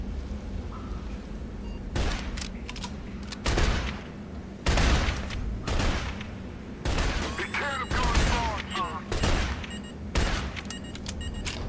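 Video game gunfire in Shadow Complex Remastered, repeated loud bursts of shots and booming blasts in clusters every second or two, with a voice talking between some of them.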